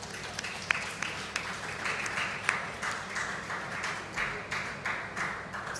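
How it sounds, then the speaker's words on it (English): Steady applause from a conference audience, many hands clapping together in a dense, continuous wash with a few sharper, nearer claps standing out, sustained evenly throughout without voices. "Yes, please clap."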